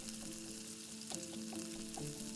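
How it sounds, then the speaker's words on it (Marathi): Cut paneer frying in two spoons of oil in a hot kadai gives a steady close sizzle with a few soft stirring clicks, quiet and alone. "गरम कढईमध्ये 2 चमचे तेल ॲड करून हे कट करून घेतलेलं पनीर लालसर रंग येईपर्यंत छान परतून घ्यायचं आहे"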